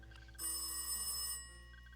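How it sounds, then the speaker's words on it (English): A telephone bell rings in a single burst of about a second, bright and fairly faint, then stops, with a quiet room around it. "I could hear a phone calling."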